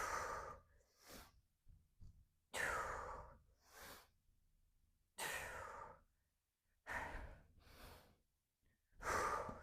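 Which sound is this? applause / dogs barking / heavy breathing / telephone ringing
heavy breathing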